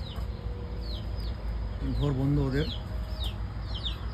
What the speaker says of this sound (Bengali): ওই যে জঙ্গলে জঙ্গলে ঘুরে বেড়াচ্ছে বড় মুরগিটা।